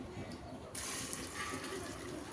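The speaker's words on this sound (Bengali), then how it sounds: "এখন দিয়ে দিব গরম পানি।" Hot water gushes into a pot of biryani being cooked at home, a steady pouring rush that starts abruptly and continues close by with no talk over it.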